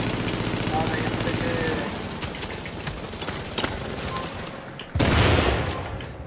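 Rapid gunfire crackles in the video game The Division, with dense bursts of shots and a sharp, louder volley near the end, all over a continuous noisy background.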